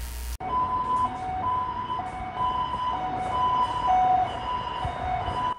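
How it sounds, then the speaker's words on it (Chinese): An ambulance siren wails through city streets in Taitung in the early morning, its two-tone cycle repeating steadily at moderate distance, with traffic rumble underneath. "救护车的声响划破清晨的台东市区的街道"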